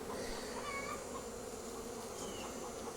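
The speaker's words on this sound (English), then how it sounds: "There's a lot of bees." Honey bees buzz in an opened beehive during a late-summer inspection for hive beetles, a steady, soft, dense drone filling the whole stretch without pause.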